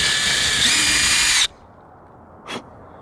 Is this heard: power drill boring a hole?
yes